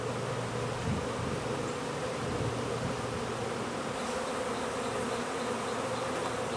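A honey bee swarm buzzes steadily around hive boxes, a dense, even drone of many wings close by that holds without a break, with no voices.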